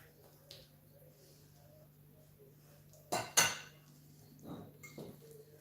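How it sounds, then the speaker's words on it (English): A spatula scrapes leftover food out of a serving dish, giving two sharp clattering knocks against the dish in quick succession, then a few softer scrapes and clinks at a quiet level. "I'm gonna use a spatula to scrape everything so we don't waste"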